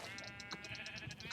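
A sheep in a Minecraft modpack game bleats in a quick run of short wavering calls, close and clear with no talk over it.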